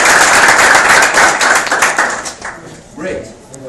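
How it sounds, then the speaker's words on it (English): People clap for Peter at a technology talk session, loud close-up clapping that carries on steadily and then tapers off, with a voice rising at the end. "Clap your hands to Peter."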